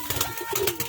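Pigeons coo in soft low repeated phrases, part of a home flock of show pigeons kept by a local fancier; several murmuring calls follow one another closely at moderate level with no talk.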